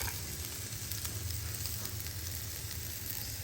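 Food browns in a frying pan with a steady, close, even sizzle and a low underlying hiss, unbroken throughout and with no voices.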